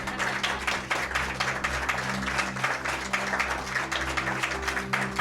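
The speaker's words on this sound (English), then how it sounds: "You may applaud." Audience applause, a continuous patter of many hands clapping, with a low steady hum underneath.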